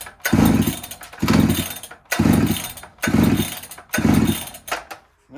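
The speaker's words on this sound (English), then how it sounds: "now I'm going to yank the cord over heavier to blow out the extra fuel" The pull-start cord of a freshly rebuilt small engine is yanked hard five times in a steady rhythm, each pull a loud, close rasp of the cranking engine that does not fire, and no one speaks.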